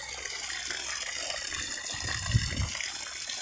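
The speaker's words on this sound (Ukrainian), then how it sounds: "Ось як працює даний глибинний насос." An AQUATICA DONGYIN deep-well centrifugal pump sends water gushing at a steady flow from a borehole, with a continuous splashing rush and one brief low thump near the end.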